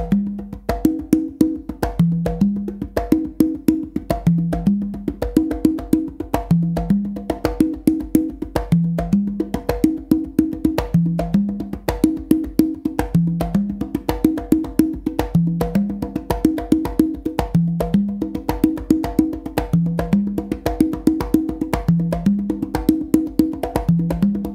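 Congas at normal speed run through a slappy three-drum exercise, a dense, driving pattern of slaps and open tones cycling across three drums, loud and close with a steady groove throughout.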